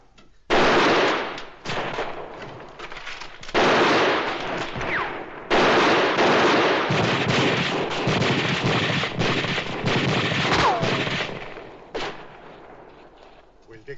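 Rapid rifle gunfire in a western shootout, loud, close bursts of overlapping shots crackling almost continuously, broken by brief pauses, with shouted voices mixed in.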